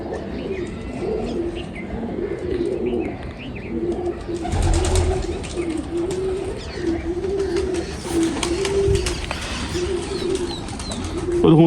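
Sialkoti pigeons in a loft coo repeatedly in low, rolling calls, with a few brighter chirps and rustles mixed in nearby.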